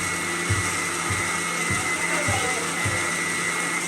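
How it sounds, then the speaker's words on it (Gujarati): A mixer grinder running in a home kitchen, a loud steady motor whine with rhythmic low thumps about every half second as contents tumble, close by and continuous. "ધવલે મિક્સર શરૂ કરી દીધું છે આમ"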